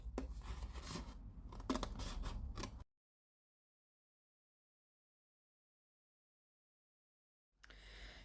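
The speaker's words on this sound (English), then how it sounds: "we're going to grab my scissors and we're going to cut along this section and cut that one off" Scissors cutting through cardstock in a quick run of close, crisp snips, followed by several seconds of silence before a short burst of cutting returns at the end.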